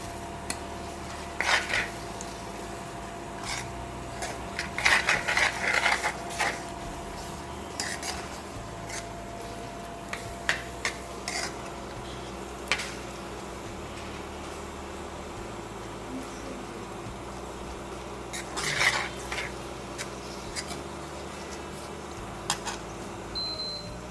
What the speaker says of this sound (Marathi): त्यालाही तेल सुटेपर्यंत छान असं परतून घ्यायचं.